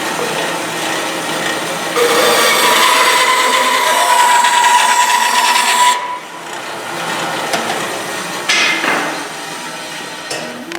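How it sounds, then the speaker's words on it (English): A saw cuts through a wooden guitar neck held in a jig, a loud, steady rasping drone that swells around two seconds and drops to a lighter grind after six. "I'm just following that with the saw."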